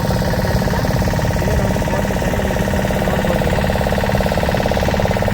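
A boat engine runs steadily on a river crossing to a temple, a loud, close, continuous rumbling drone with a fast mechanical pulse and no break.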